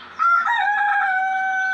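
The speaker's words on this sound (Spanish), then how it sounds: "Es lo mismo como cuando el gallo canta." A rooster crows once in a single sustained call, close and clear against a quiet background.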